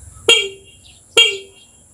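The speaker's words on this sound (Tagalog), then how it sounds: "Tingnan natin, try natin yung busina niya." Two short, bright honks from a TMX 125 Alpha motorcycle horn, evenly spaced about a second apart, loud and close.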